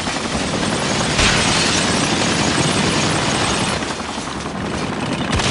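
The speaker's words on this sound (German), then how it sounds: "Verdammt, da kommt ein Heli!" Helicopter in the video game Spec Ops: The Line, a loud, steady rotor and engine roar filling the whole stretch, with dense rattling noise that may carry gunfire, close and continuous throughout.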